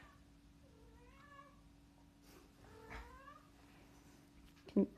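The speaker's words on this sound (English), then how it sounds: "Can you hear my cat?" A house cat meows twice in an indoor room at home, the calls rising and falling and moderately close, followed by a short sharp sound; no talking over it.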